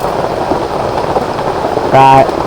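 Rain falls steadily through a forest during the rainy season, a dense even hiss throughout, with a brief tonal call rising over it near the end.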